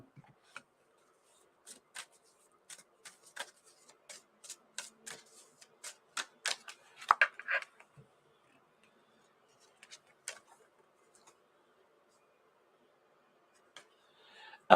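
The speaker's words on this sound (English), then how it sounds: "we're just going to shuffle these cards here" A deck of tarot cards is shuffled quietly up close, giving a run of soft riffling clicks and flicks that bunch together and then trail off into sparse taps.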